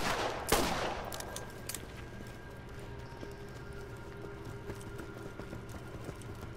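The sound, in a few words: gunshots blowing up in the distance in video game Borderlands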